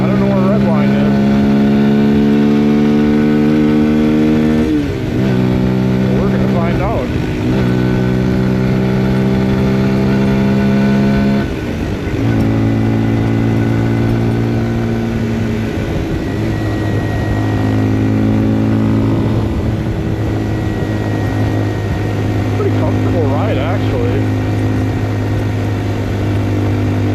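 A Papio SS mini motorcycle engine revs at full throttle, loud buzzing tones climbing through gear changes with brief dips between shifts, wind noise underneath and a rider talking over it.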